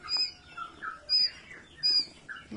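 Birds chirp from a rooftop coop where pigeons and quail are kept, with three short, close, high-pitched calls spaced about a second apart over a faint background.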